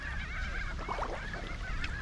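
Seabirds squawking and honking while squabbling over scraps of food near the shore at a Caribbean island beach, a dense, overlapping chorus of harsh calls at steady, moderately loud level with no speech.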